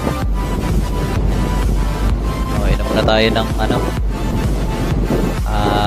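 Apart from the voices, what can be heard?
strong wind by the sea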